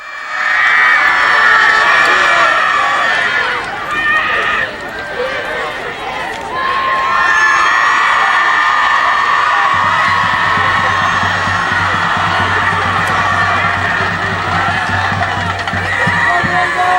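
A large student crowd at Allen Park cheers and yells continuously, loud and boisterous, with whoops rising through the din and a low rumble joining later.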